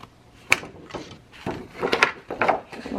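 Scissors snip through paper along a straight line, with a few crisp, separate cuts about half a second to a second apart, close and fairly quiet.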